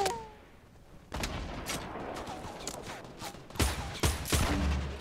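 Gunfire in Fortnite: several sharp, loud shots in irregular bursts, some close together like a fusillade, with quieter gaps between them.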